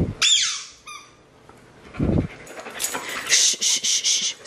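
Excited Alaskan Malamute whimpering and squeaking in high, wavering whines with short yips and panting, close and fairly loud, in a burst of repeated cries toward the end.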